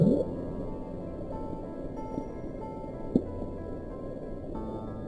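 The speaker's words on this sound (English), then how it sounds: "The audio profile of Bloop does indeed resemble that of a living creature" The Bloop, a mysterious deep-sea ocean sound, plays as a low rumbling underwater recording with a rising swoop at the start and a faint sharp blip later, under steady hiss.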